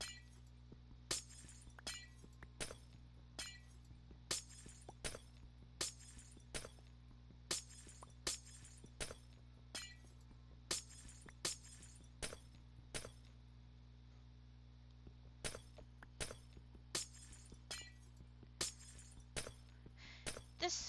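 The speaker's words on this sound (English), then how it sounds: "Instead of breaking dishes, I'm breaking glass." Glass blocks being broken in Minecraft, a rapid series of sharp shattering clinks repeating every second or so over a quiet low hum, with no talking.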